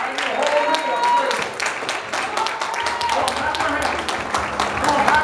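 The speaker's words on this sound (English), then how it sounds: "Come on, clap your hands and give God praise." A church congregation claps hands during praise worship, a steady dense patter of many hands filling the room, with singing or voices underneath throughout.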